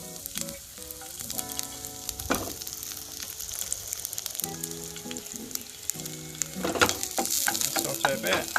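Chopped ginger and garlic cloves hit a teaspoon of hot oil over medium-high heat in a pan, giving a steady close sizzle with stirring scrapes, while soft tonal background music plays throughout.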